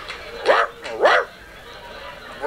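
Two sharp, close dog barks in quick succession, then a fainter third bark at the end.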